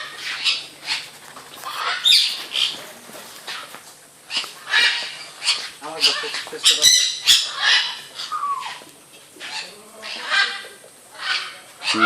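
Birds squawk and honk loudly in repeated, overlapping bursts close by, like a flock of geese or fowl calling noisily.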